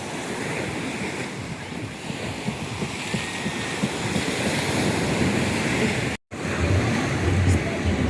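Sea waves break steadily on a beach in a continuous loud wash, with rumbling wind buffeting the microphone and a brief dropout partway through.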